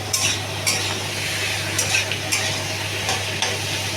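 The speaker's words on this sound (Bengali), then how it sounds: "এবার লাউটা করবো, নাড়িয়ে দেবো" Bottle gourd seasoned with turmeric and salt is stirred in a frying pan, a steady sizzle broken by about six scraping strokes of the spatula, close and fairly loud, with a low steady hum underneath.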